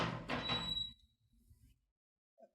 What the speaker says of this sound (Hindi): दरवाजे की आवाज़ आ रही, मेरे ख्याल वो लोग आ गए।